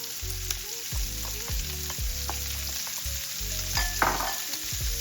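Onion fries in orange chorizo oil in a pan, making a continuous crackling sizzle with repeated stirring scrapes and knocks and a low hum underneath, no talking.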